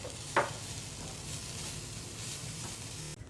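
Masala and capsicum with white pepper and salt fry in a pan, giving a soft steady sizzle with one sharp clack of a spatula near the start.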